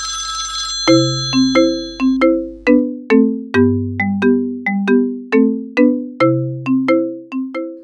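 A mobile phone rings with an incoming call, playing a loud, close melodic ringtone of bright repeated electronic tones in a steady rhythmic pattern, with no voices over it.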